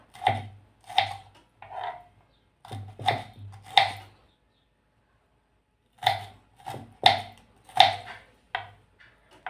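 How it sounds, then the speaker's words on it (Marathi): Spiny gourd (kartoli) being chopped into small pieces with a knife on a board, giving crisp, distinct chopping knocks in short clusters with a quiet pause in the middle. "मी बारीक बारीक असे हे कट करून घेत आहे."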